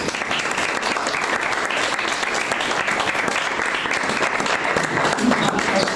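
An audience at a poetry evening claps steadily, dense and even applause filling the whole stretch with a faint murmur of voices beneath.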